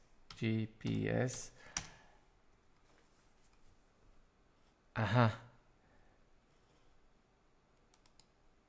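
Several bursts of quick computer-keyboard typing come in short close clicking runs with quiet pauses between them, separate from the talking.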